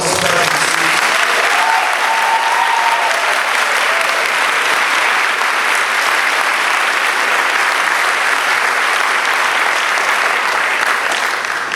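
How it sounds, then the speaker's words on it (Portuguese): A church congregation bursts into loud, sustained applause during an evening service, dense clapping that fills the room at an even level for the full stretch without letting up. "uma salva de palmas para você"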